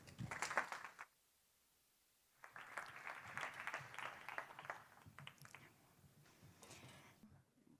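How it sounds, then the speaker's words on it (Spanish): A seated audience at a talk on weeds in rice cultivation breaks into applause: an initial burst of clapping, a short gap, then a longer sustained round that tapers off. "Recibámosla con un fuerte aplauso a María Dolores Osuna."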